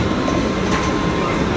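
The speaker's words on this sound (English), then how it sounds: "the Piccadilly line that will take us to Heathrow, straight up." A London Underground Piccadilly line train runs below Heathrow Terminal 3 with a loud, continuous rumble and roar, up close, for under two seconds.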